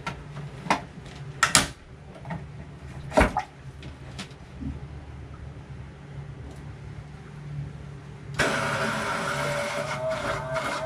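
A boat's bilge pump kicks on after a few sharp clunks and knocks, then settles into a steady, loud whirring rush of running motor and pumped water that continues to the end.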